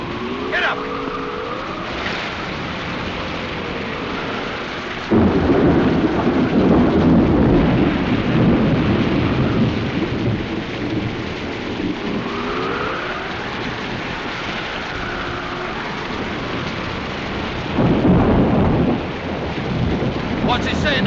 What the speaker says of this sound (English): It's too dangerous in the storm.